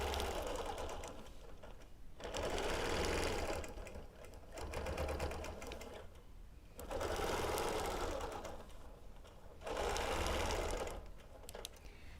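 Free motion quilting with a ruler on a sewing machine in a quilting studio, the needle running in repeated surges that speed up and ease off several times in a fairly quiet, close room.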